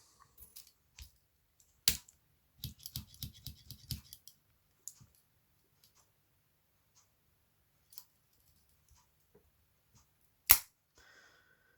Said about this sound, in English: Then we have scissors.